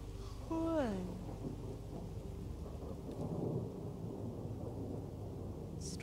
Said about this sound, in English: Stormy weather.